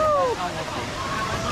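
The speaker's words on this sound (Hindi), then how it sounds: "फाइनली हम पहुंच चुके हैं वाटरफॉल, और यहाँ का नजारा चेक कीजिए आप" The Ratan Mahal waterfall roars as a steady broadband rush of falling water, with a voice speaking over it near the start.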